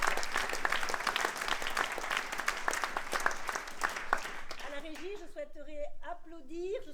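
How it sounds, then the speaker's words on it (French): A theatre audience at a festival performance of a play about Montségur applauds with a dense burst of claps for several seconds, which fades as a voice begins speaking over the thinning clapping. "je souhaiterais que nous applaudissions Sylvie"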